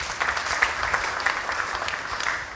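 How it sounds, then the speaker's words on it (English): Applause from an audience at a talk, a dense, steady wash of clapping held at an even level for the whole stretch, with no voices above it. "Give him a round of applause"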